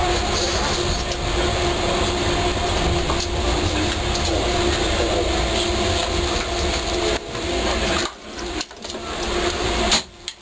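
A Docklands Light Railway train running, with a continuous rumbling roll and clattering rail noise heard from inside the carriage, steady for most of the clip before dips and rattles near the end.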